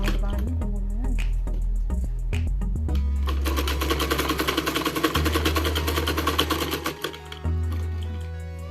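A sewing machine stitches a salwar suit seam in a long, rapid, steady run after a few quieter seconds at the start. The needle's close mechanical chatter stays loud and even throughout.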